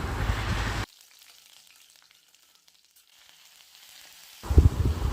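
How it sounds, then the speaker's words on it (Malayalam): Mustard seeds, dried chillies, garlic and curry leaves fry in coconut oil with a loud, close sizzle that cuts to near silence for a few seconds, then returns with strong crackling pops. "കടുക് പൊട്ടി വരുമ്പോൾ അതിലേക്ക് വറ്റൽമുളക്, വെളുത്തുള്ളി, കറിവേപ്പിലിട്ട് മൂപ്പിച്ചെടുക്കാം."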